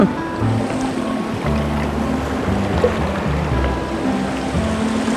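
Continuous rushing water from a flowing stream at a campsite fills the clip, a steady broadband flow with low rumbling underneath, close and fairly loud.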